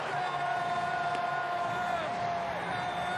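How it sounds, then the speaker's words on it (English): A sellout capacity crowd at Petco Park in San Diego roars and cheers steadily throughout a Padres baseball game against the Reds, a dense continuous wash of voices with a sustained tone riding above it. "Capacity crowd, a sellout at Petco Park. They are all fired up for the Padres"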